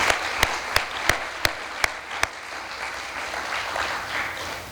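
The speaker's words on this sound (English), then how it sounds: "So let's give them all a round of applause." Audience applause at an award ceremony, broad steady clapping from a crowd with a few sharp, louder claps standing out early on, sustained for several seconds.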